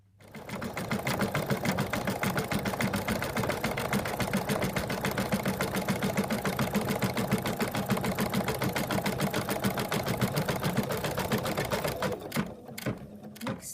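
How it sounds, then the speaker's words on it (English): An embroidery machine runs steadily as it sews a decorative stitch on an elephant applique, a fast even mechanical whirr with rhythmic needle clatter that continues for about twelve seconds before stopping with a few clicks. "the next stitch is going to be the decorative stitch that goes on the top there"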